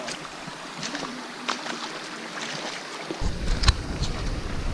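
A passenger boat moves across water near Wawa Dam with a steady wash and rushing churn, growing louder and rumbling deeper near the end, with faint voices in the background.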